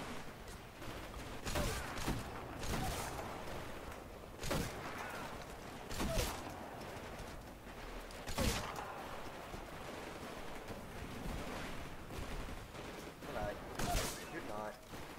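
Titanfall gunfire, bursts of shots and impacts popping at irregular intervals among in-game ambience, with people talking over the action.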